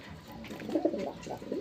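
Pigeons coo softly in a short burst of low, throaty calls, fairly close and quiet, with no talking.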